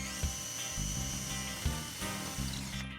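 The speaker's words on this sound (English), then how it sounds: "So now this one is drilled and we're just going to put the screw in." A power drill drives a screw into a wall-mounted pegboard, with a steady high whine that swells in short low-pitched pulses as the screw bites, close and alone.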